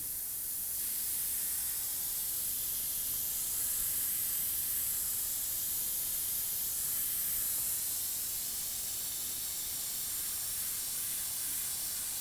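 Airbrush spraying paint while working on a graphic: a steady, even hiss that runs unbroken for about twelve seconds, with no voices.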